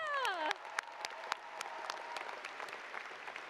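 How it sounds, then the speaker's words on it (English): Audience applause at a civil and environmental engineering graduation celebration, steady clapping with scattered sharp claps filling the room after a tonal sweep at the start. "Let's give them all a round of applause."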